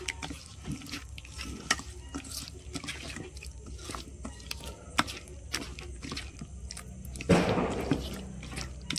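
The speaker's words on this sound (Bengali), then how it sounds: "আর এখানে জল নিয়ে নিয়েছি, এবার জলটা দিয়ে মাখা শুরু করবো।" Gram flour batter being mixed with water by hand in a bowl in a home kitchen, soft wet squelching and stirring throughout with small splashes and a few clicks, ending in a louder slosh.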